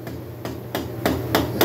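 A rubber hammer knocks on the cylinder of a 1970 Harley-Davidson Leggero during a top-end rebuild, five dull, evenly spaced taps that grow slightly louder, close to the microphone.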